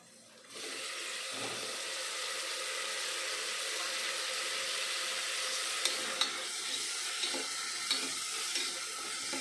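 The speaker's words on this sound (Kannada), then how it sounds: "ಈರುಳ್ಳಿ ಬಟಾಣಿ ಎಲ್ಲ ಈ ರೀತಿ ಎಣ್ಣೆಲಿ ಚೆನ್ನಾಗಿ ಫ್ರೈ ಆದಮೇಲೆ ನಾವು ಕಟ್ ಮಾಡಿ ಇಟ್ಕೊಂಡಿರೋ ಒಂದು ಟೊಮೊಟೊ ಹಾಕಿ ಫ್ರೈ ಮಾಡ್ಕೊಬೇಕು" Onion, peas and tomato fry in oil in a pan; a sizzle starts abruptly and then holds as an even, moderately loud hiss, dotted with a few soft stirring ticks and no speech.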